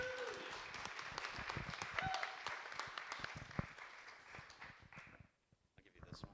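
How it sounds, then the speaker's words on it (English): Audience applause welcoming Tiffany Banks to the stage at a sales meeting, a steady patter of clapping with a voice and whoops over it, fading out near the end before a brief return. "give her your applause and your greeting"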